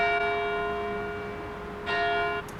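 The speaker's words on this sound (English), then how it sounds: "Even the bells sound European." Church bells ring out in a European town, a sustained bright peal with a fresh strike near the end, fairly close and loud with no voices.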